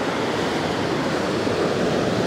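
Ocean waves surge and wash onto a New Zealand beach in a steady, loud broadband roar with no clear breaks, close by and continuous, with no voices.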